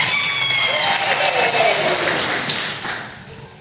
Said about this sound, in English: So let's clap for this organization for coming to Serenje.